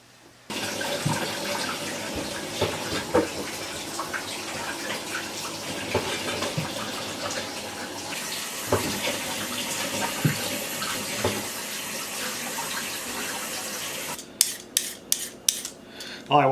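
Water from a tap runs steadily into a sink as little potatoes are washed, a close continuous rushing stream that stops near the end, followed by a few handling knocks and splashes.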